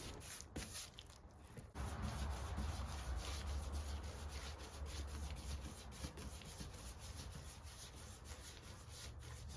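A rag rubs a finish coat onto a walnut vanity in a soft, continuous wiping hiss, quiet and close, starting after a brief pause and continuing steadily without talk.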